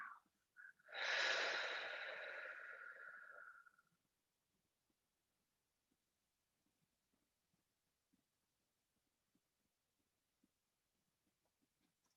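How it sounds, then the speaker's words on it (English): A single deep breath drawn in through the nose and let out through the mouth during a quiet meditation, one long close breathy rush lasting a few seconds, followed by near silence. "deep breath in through the nose. Deep, deep breath. Exhale through the mouth."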